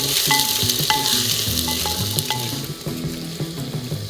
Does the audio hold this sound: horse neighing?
no